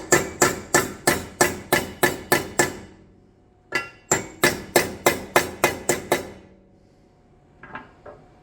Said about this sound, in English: So we should be able to just hammer these over.